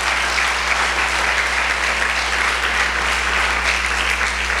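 A church congregation applauding at a service, steady loud clapping filling the room for the whole stretch with no pauses.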